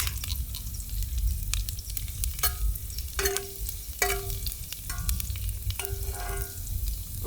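Curry being burned in a pot over an outdoor fire, with steady frying sizzle and repeated stirring scrapes and clinks of a spoon against the pot, fairly close, with no talking.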